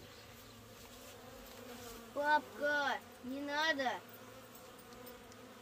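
Honey bees buzzing around a village beehive during queen cell removal, a faint steady hum with two louder close passes, while a child and an adult speak briefly.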